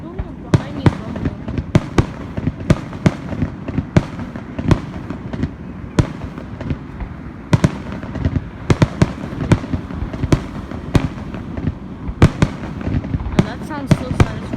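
Fourth of July fireworks pop and crack in a steady run of sharp bursts, some loud and close, others distant, over a low rumbling background, while people talk and react.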